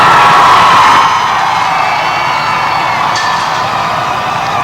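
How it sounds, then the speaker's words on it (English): Crowds cheering along Pennsylvania Avenue as the new president and first lady pass during the 2001 presidential inauguration, a loud continuous roar of massed voices and whoops from a distance, with no distinct speech. "The new president and first lady came down Pennsylvania Avenue to the roaring sound of cheering crowds."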